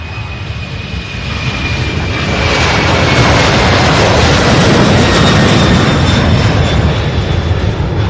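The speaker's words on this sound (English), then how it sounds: "All right, so here we have that 767." A Boeing 767 jet roars past at close range, its loud engine noise swelling after the first couple of seconds and holding steady as it passes over an airport runway.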